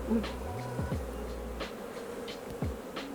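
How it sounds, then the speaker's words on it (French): Honeybees buzzing close to the face at a beekeeper's hives, a steady insect drone with individual bees swelling and passing near the ears over a low background hum. "J'avais jamais eu d'abeilles autant proche de mon visage."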